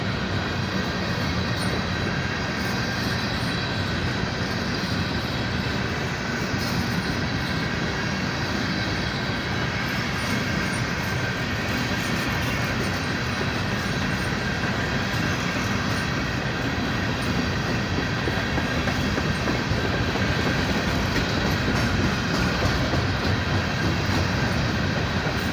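An empty Union Pacific #7511 coal train starts up, giving a steady broadband rumble and roar that stays loud and constant throughout with no clear breaks and no voices.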